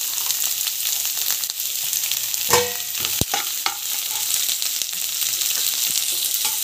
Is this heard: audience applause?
no